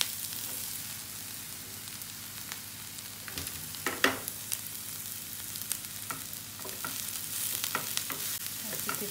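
Tofu and herbs frying in a pan on too high a heat, a steady hiss and crackle with sharp pops and occasional stirring scrapes, fairly faint and with no talk.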